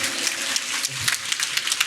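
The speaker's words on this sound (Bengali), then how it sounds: "ছেলের জন্য করতালি দিবেন না?" An audience at a motivational talk applauds a boy. Close, dense clapping fills the whole moment, steady and loud with no talk over it.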